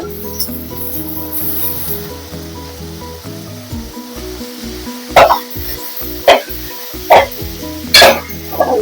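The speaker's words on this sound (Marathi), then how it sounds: "आता त्याच्यात कांदा घालून घेते" Chopped onion sizzling in hot oil with garlic and chilli for a spicy Malvani-style prawn dish, a steady close fry with a few sharp stirring scrapes near the end.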